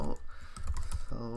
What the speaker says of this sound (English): So I can type here love.graphics.tangle.